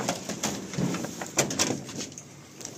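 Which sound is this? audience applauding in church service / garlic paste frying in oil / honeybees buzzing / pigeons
pigeons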